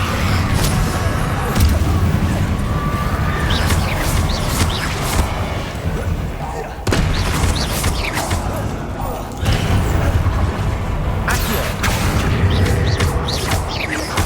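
Confringo blasting spell in Hogwarts Legacy: repeated booming explosions and crashing impacts over a continuous loud game soundscape, with sharp blasts recurring every few seconds.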